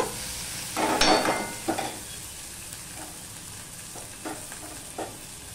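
Prawns fry with garlic in a pan, a low steady sizzle broken by a few louder bursts of stirring and scraping, heard close with no one talking.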